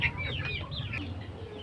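Brahma chickens cluck and chatter close by on a small poultry farm, a string of short rising calls over a low steady background hum, with no one talking.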